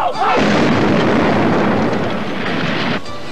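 A loud, booming explosion effect from a 1981 Christmas TV film bursts out and then rolls on as a sustained, rumbling roar for about three seconds before cutting off.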